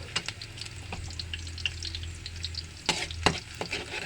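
Sardines going into a pan of golden-brown garlic frying in oil, a steady close sizzle with scattered crackles and a couple of sharper clatters and pops near the end.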